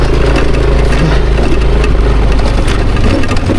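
Motorcycle engine idling steadily outdoors on a flooded road shortcut, a loud, continuous low rumble that holds for the whole stretch with no clear pauses.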